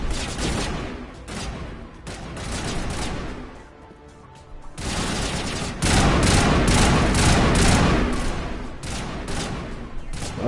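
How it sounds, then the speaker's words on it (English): Heavy sci-fi combat in Mass Effect, loud bursts of gunfire and explosive blasts in dense clusters, dipping briefly before a louder sustained stretch of crashing fire near the end. "I threw a grenade, it took forever to fucking blow up"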